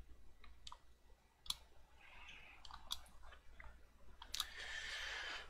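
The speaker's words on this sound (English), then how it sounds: "Think I need a compressor to get that clicking of the controller out the way." Rapid plastic button and thumbstick clicks from a video game controller during a FIFA 20 football match, irregular taps and bursts of several clicks, fairly close and faint, with no talking.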